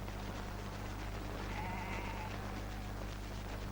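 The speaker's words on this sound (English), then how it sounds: "Whose sheep are these?" A lone sheep gives one drawn-out bleat midway through, moderately distant over a constant hiss of background noise, with no one speaking.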